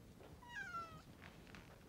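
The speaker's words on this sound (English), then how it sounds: "I had a distinct impression I heard a cat mewing, either in this room or very close at hand" A cat gives one short, faint mew, a single rising-and-falling cry heard alone against quiet room noise.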